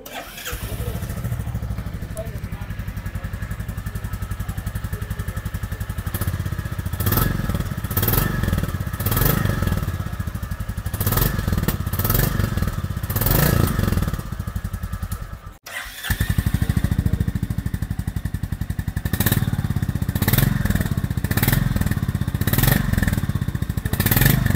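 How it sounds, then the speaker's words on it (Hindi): Royal Enfield Classic 350 motorcycle exhaust thumps close by in a steady idle, with several throttle blips and revs, a brief cut around the middle, then the loud thumping idle resumes. "आप वन बाय वन करके सुनेंगे एग्जॉस्ट नोट,"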